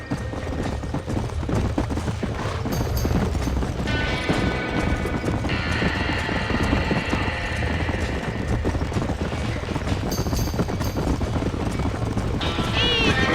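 Horses trapped in a burning barn in the video game Red Dead Redemption 2, with loud hoof clatter and whinnying amid fire noise and shouting voices throughout.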